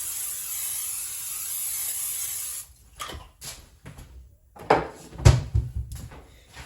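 A 9x13 baking pan is coated with cooking spray, a steady hiss running for a few seconds, followed by clatter and knocks as the pan and utensils are handled nearby.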